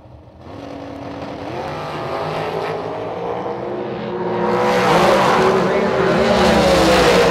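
Drag racing cars launch down the strip at a bracket race with a $1 million purse: a loud engine roar swells and builds over several seconds, heard from trackside.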